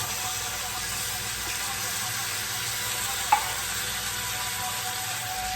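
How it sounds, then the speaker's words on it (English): A steady, even sizzle from a hot pan as canned mushrooms and their juices deglaze the browned bits for chicken cordon bleu, continuing unbroken with a faint clink partway through. "we're just gonna deglaze basically the pan"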